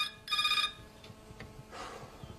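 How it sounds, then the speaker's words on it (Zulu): A telephone rings in a home setting, one sharp bright electronic ring burst followed by fainter ringing tones, with light room noise and movement in between. "Okay, ngiyabuya sophendula ucingo."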